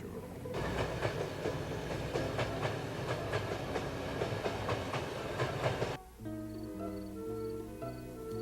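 A train rolls steadily along the rails with a dense, even clatter and rumble, and partway through a swell of orchestral music takes over.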